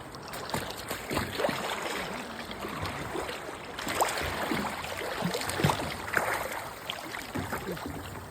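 A small boat moves across water with soft, rhythmic splashes and sloshing that rise and fall at a moderate distance, steady throughout with no voices over it.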